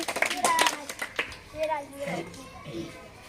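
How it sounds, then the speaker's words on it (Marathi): Schoolchildren at a traditional-games sports day burst into a short round of close, brisk clapping that quickly fades, with an adult and children talking over and after it. "जोरात टाळ्या छान विराजसाठी"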